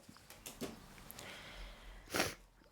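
A person sniffles with a blocked nose, a few soft nasal sniffs early on and one louder, sharper sniff near the end, close and quiet with no talking.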